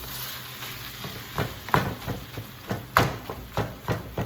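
Ground meat for carnivore chili dogs and burgers browns in a pan, giving a steady close sizzle broken by recurring scrapes and stirs of a utensil against the pan.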